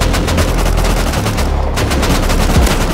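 Rapid gunfire in the survival game Rust, dense automatic bursts and shots crowding together nonstop at loud, close range, with a brief thinning near the middle before the volley resumes.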